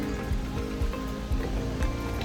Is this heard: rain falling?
yes